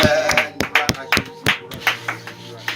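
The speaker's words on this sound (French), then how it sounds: "Acclamons pour la lecture." A congregation at a church service applauds after a Bible reading with uneven, fairly sparse claps, a few hands striking at a time over a low hum, and a voice heard in the background.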